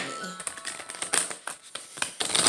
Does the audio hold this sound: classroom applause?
no